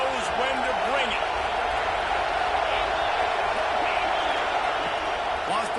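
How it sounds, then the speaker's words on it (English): Stadium crowd in the College Football 26 video game roars steadily throughout, a dense continuous cheer with occasional whoops, while a commentator's voice talks over it. "These fans are going absolutely nuts."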